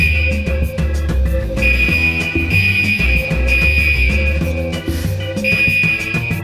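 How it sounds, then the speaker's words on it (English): Fire alarm being tested in a newly constructed building, a loud, steady electronic tone sounding continuously with rhythmic pulsing underneath, no voices over it. "one of the sounds you must constantly endure is the irritating and repeated racket of fire alarm testing"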